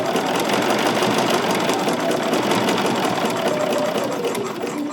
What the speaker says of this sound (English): Now here's where I started stitching.